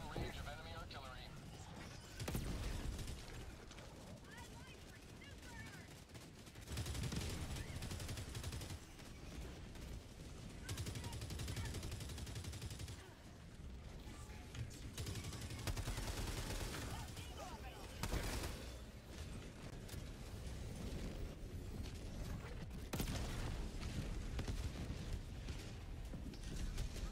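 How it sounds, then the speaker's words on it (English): Enemy artillery and gunfire rattle in a video game battle as faint, repeated distant bursts and booms, with a voice speaking over the shooting. "Warning, you are in range of enemy artillery."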